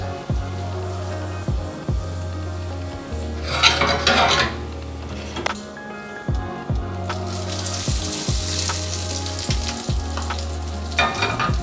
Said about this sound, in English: In a second pan, toast some pine nuts in olive oil until golden brown.